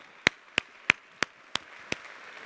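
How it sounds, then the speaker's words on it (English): Six sharp, evenly spaced claps ring out one after another from a conference audience, crisp and close with no voices over them. "Give yourselves a round of applause."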